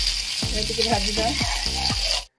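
Onion and capsicum sizzle in hot oil in a pan for chilli paneer: a loud, steady frying hiss with a few rhythmic scraping strokes, then it stops abruptly.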